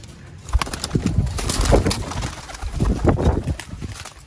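A flock of Sialkoti pigeons, a prized breed, coos and rustles close by in a continuous, busy murmur of throaty calls and soft fluttering, with no talk.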